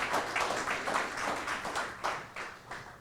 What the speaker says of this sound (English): Let's give our panel here a round of applause.